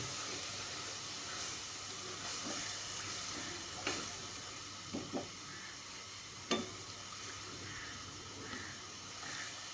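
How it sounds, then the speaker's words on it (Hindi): Water boiling in a pot while making pumpkin and bottle gourd murabba gives a steady hiss and sizzle, with a few soft clinks and taps over it. "अब पानी को उबाल आ गया"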